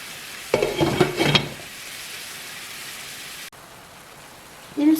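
A pan of sauce with pepper and garlic simmers and sizzles steadily, with a brief burst of louder stirring and clinking near the start and a short scrape at the end.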